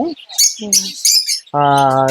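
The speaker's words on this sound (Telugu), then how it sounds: "ఇవి వచ్చేసి ఆఫ్రికా లవ్ బర్డ్స్" African lovebirds chirp up close, giving a few sharp broken tweets followed by a sustained harmonic call, loud and near with no talk.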